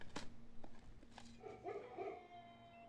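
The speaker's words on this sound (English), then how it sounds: "I hear barking." A dog barks in the video game Blue Prince, a few faint, distant yips and whimper-like sounds over a quiet background.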